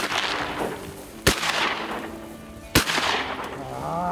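Two loud, sharp shotgun blasts about a second and a half apart during a late-season duck hunt in Wisconsin, close by, each followed by a brief outdoor echo, with faint wind and movement between them.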